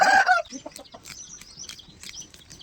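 A country chicken (natu kodi) gives one loud, sharp squawk up close, followed by softer scattered clucks and faint calls in the background.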